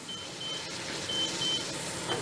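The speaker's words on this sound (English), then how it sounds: "We'll turn the annoying alarm off." Short, high electronic beeps from a kitchen timer alarm during pressure canning repeat in an uneven pattern over a steady background hiss.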